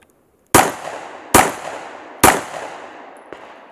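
Three sharp, loud shots from a Springfield Armory Hellcat pistol firing Federal rounds outdoors, evenly spaced about a second apart, each with a short decaying echo, followed by a faint click.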